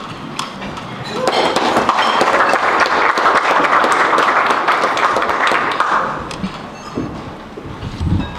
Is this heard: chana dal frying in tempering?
no